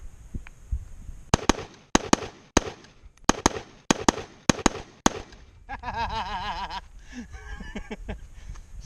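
An AR-15 fitted with a CMMG .22 conversion kit fires a rapid string of about ten sharp shots. A short whooping warble and some rustling follow.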